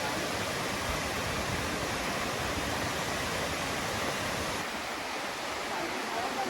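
Kaaterskill Falls in the Catskill Mountains pours with a steady, broad rush of falling water that fills the scene evenly and continuously from a moderate distance.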